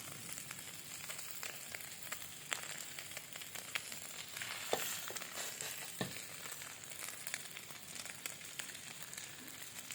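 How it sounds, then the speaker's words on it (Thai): A Thai omelette with shallots and naem sausage fries in hot oil, giving a steady close crackling sizzle with scattered sharp pops, running alone with no talk. "ทอดไข่เจียว ใส่หอมใส่แหนม"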